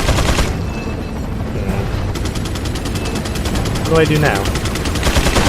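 Machine gun fire from a gunner nest in Resident Evil 4 keeps up a steady, loud stream of rapid shots, and a voice talks briefly over it.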